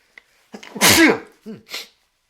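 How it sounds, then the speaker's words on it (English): A single loud, close sneeze with a sharp inhale beforehand and a short breathy sound afterward. "I'm going to sneeze again, I think"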